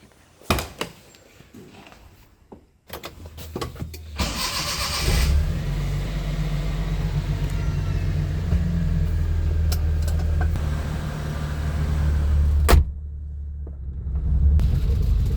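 A Maruti 800 car's small engine cranks and catches after some scattered knocks and handling noises, then settles into a steady, low, close idle that rumbles on through wet, rainy conditions.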